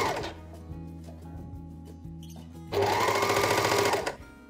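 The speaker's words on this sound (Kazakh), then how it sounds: "мына шетін оверлокқа салып шығамыз" Overlock sewing machine stitching a fabric edge, starting and stopping in short bursts before a sustained fast whirring run, close and clear with no talking.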